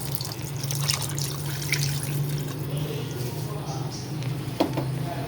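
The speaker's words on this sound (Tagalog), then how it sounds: "Tapos, lalagyan na natin ng tubig para lumambot." Water poured into a pot of pork adobo with kalamansi, a continuous soft pouring and trickling over a low steady hum, moderately quiet with a small splash near the end.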